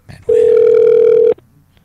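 A single long, steady electronic telephone tone on an outgoing call sounds loud and close for about a second, then cuts off abruptly into near silence.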